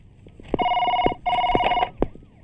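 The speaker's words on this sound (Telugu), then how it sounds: "మీకు ఫోన్" Telephone ringing in an office scene, two long electronic rings separated by a short pause, loud and close, with scattered thumps between them.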